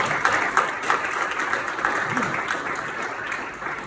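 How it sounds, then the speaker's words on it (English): A business event audience applauds for a few seconds, a steady wash of clapping heard from inside the room. "a round of applause, please"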